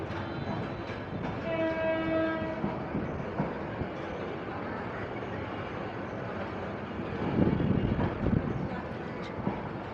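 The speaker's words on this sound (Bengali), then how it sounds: "এটাই আমাদের দেশের ট্রেন" A Bangladeshi train passes nearby and sounds a sustained horn in its first seconds, then rumbles on with clattering wheels and rising noise. Faint voices sit underneath.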